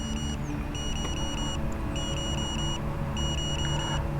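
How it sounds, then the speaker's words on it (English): An FPV drone linked to DJI FPV goggles, flying a Flywing Huey model helicopter, sounds a range warning: clusters of high electronic beeps repeat about once a second over a steady whirring drone. "this thing's beeping and it must be saying there's a range issue."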